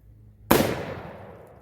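An AGC Diablo 12 gauge double-barrel shotgun fires an improvised load of beans and rice: one loud, close blast that cuts in sharply and rings off in a long decaying tail.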